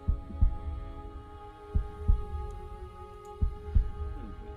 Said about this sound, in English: you begin to hear the sound of a heartbeat. And it just beats.